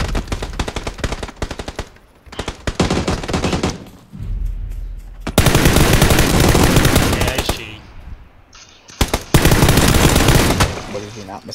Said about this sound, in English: He is shooting, yeah.